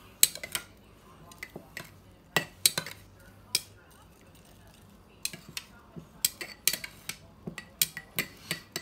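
A utensil mixes salt, kosher salt and coarse black pepper in a dish, giving a run of sharp, irregular clinks and scrapes against the bowl, some in quick clusters and others spaced apart, close and fairly crisp over a quiet background.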